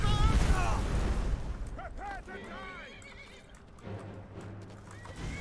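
Horse from the video game Skyrim (modded) whinnies in rising, wavering calls with clip-clopping hooves, set against a dense rumbling game soundscape.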